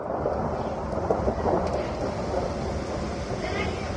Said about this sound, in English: Thunder snow.